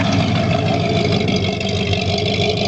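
A Ford F-250 truck engine idles steadily on a baseline tune through a stock muffler and tip, a smooth continuous low rumble heard up close with no talking.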